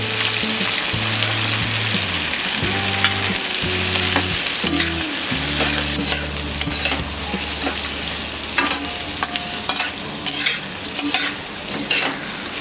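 Carrots stirred in a frying pan for vegetable sevai upma, loud sizzling with repeated rhythmic scraping of a spoon against metal, close up, steady throughout with no talk.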